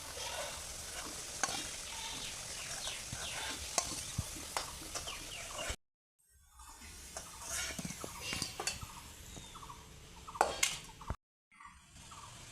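Potatoes fry in hot oil in a pan and are stirred with a utensil, sizzling steadily under repeated scraping and clinking strokes, broken by two brief silent gaps; no one speaks.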